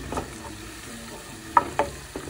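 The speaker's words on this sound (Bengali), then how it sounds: "রসুনটা দিলেছি তেলের মধ্যে" Garlic frying in oil in a cooking pot, a soft steady sizzle broken by a few sharp spoon scrapes against the pot near the end, close and alone with no talking.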